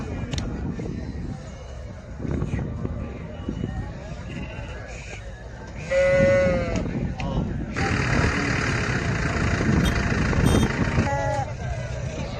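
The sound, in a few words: lambs and sheep bleating at livestock market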